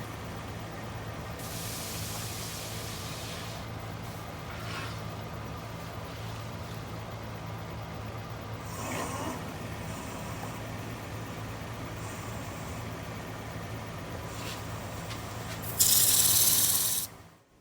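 Steady whirring drone of a lathe-turned cherry wood bowl being sanded through progressive grits, a continuous mechanical hum with faint scratchy texture, brief louder hiss near the end before it stops.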